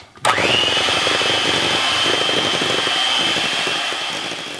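An electric hand mixer whirs steadily and loudly through pumpkin spice cake batter as ground ginger and vanilla are worked in, starting abruptly and running without pause.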